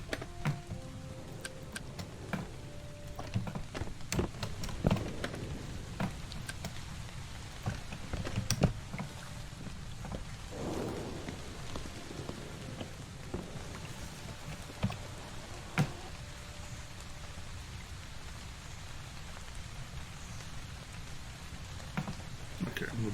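Steady rain from the game Realms of Magic patters continuously, dense and even, with scattered sharp ticks and clicks through the clip.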